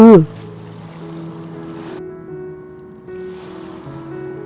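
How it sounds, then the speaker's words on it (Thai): Ocean surf and waves in the Sakura School Simulator video game, a steady soft wash of water under a sustained tonal background, with a brief voice-like sound at the very start. "พอได้ยินเสียงคลื่นทะเลเนี่ย"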